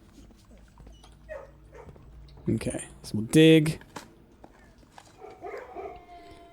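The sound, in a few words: puppy whimpering and barking in Blue Prince video game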